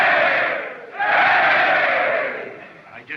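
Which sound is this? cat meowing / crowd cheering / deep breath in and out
crowd cheering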